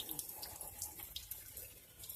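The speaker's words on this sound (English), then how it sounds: "fill it up with water" Water runs and splashes steadily, like a hose pouring into a filler neck, refilling an engine's cooling system after head gasket sealer repair, with faint trickling and dripping throughout.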